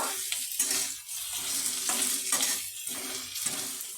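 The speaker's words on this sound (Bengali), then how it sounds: "পেঁয়াজটাকে আমি হালকা করে একটু ভেজে নেব।" Onion lightly frying in a pan over a medium gas flame gives a continuous crackling sizzle that swells and dips in a repeating rhythm as it is stirred, close and fairly loud with no talking.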